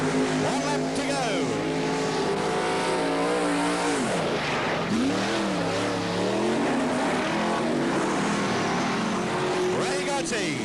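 Speedway sedan race cars roaring around the final lap of a 1984 USA versus Australia Grand Nationals meeting at an Australian showground track, engines droning and rising and falling continuously as cars pass, loud and dense throughout.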